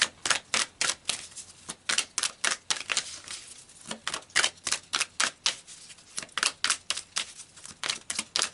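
Tarot cards being shuffled and pulled for a reading, a rapid run of crisp snapping and riffling clicks in bursts close to the microphone, with no talking.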